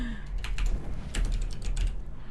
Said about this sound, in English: typing in Volk Dashade was enough to get me the link